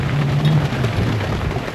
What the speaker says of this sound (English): of course it's pouring with rain